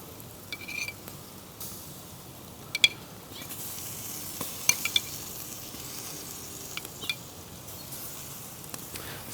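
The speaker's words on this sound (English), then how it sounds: "It smells awesome as that sauce is hitting the coals." Barbecue ribs with sauce over hot charcoal, giving a steady low sizzle broken by scattered pops and crackles, close and fairly quiet with no talk.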